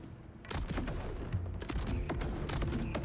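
Rapid weapon fire from an underbarrel attachment in Borderlands 4, a loud volley of sharp shots after a brief quieter opening.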